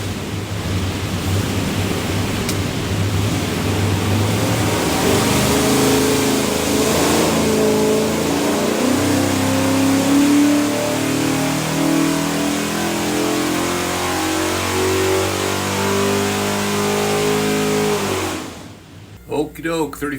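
A 427ci small block Ford with a custom grind hydraulic roller cam and rear sump oil pan, built for a Fox Body Mustang, roars loudly on a dyno pull, pitch climbing steadily for about eighteen seconds before cutting off abruptly.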